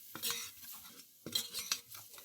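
A utensil stirs flour into onions and butter in a pan, two short bursts of scraping and clinking with a faint sizzle between them, quiet and close.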